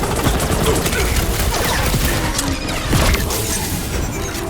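Dense, loud gunfire fills the Marvel's Guardians of the Galaxy battle, with rapid overlapping shots and impacts packed together, and voices in the game mixed in underneath.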